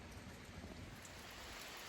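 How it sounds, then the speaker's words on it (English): Steady rain pours down outdoors at a shooting range, a continuous even hiss of drops on surfaces with no breaks and no voices. "We got a rain delay."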